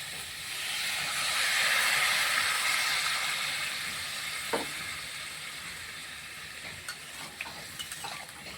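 Water splashed into a hot pan of pumpkin and salt, with prawns to follow, sets off a loud steaming hiss that swells and slowly eases, broken by a few faint clinks and scrapes; no talk.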